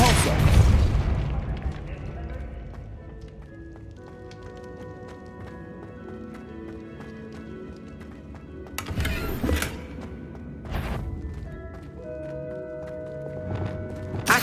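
A Depulso spell cast in the Hogwarts Legacy video game, a loud booming blast at the start followed by lingering magical tones and a few later whooshing bursts.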